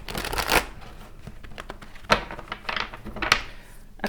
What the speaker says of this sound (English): Just going to do a really hard shuffle here for you